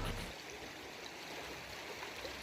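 The Limnytsia River in Ukraine rushes and babbles steadily at a low, even level, with no voices.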